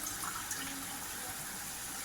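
Water pours steadily into a pot of chicken biryani, a continuous broadband splash and gush lasting the whole moment, fairly close and with no voices over it.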